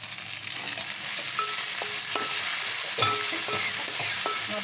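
Two large tomatoes fry with ginger-garlic paste in a pan, a steady close sizzle broken by repeated clinks and scrapes of a spoon stirring against the metal, with no talking.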